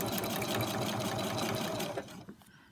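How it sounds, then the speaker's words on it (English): A sewing machine stitching a butterfly charm block runs steadily and loudly, then stitches clear off the end of the fabric and stops, leaving a few small handling clicks. "And I'm going to sew clear off the end"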